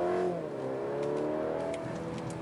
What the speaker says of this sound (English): the sound for a 2-liter 4-cylinder engine is really good